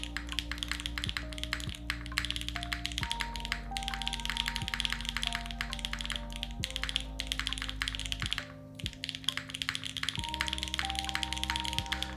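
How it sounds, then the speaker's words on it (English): Steady, rapid clacking of keys on a custom-built Orbit65 mechanical keyboard, close up, with a continuous background hum. "listen to this keyboard."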